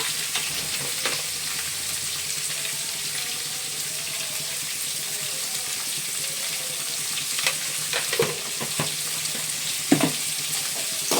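Carrots and mixed vegetables with a little salt frying in a pan for vegetable upma, a steady close sizzle with occasional stirring scrapes and clinks.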